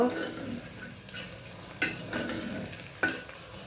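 Turmeric and Byadgi chilli powder stirred into rice frying in a pan, a soft continuous sizzle with a few sharp metal clinks of spoon against the pan.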